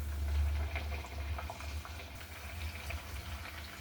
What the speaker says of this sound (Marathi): आपल्याला आंबट घाऱ्या तळून घ्यायच्या आहेत।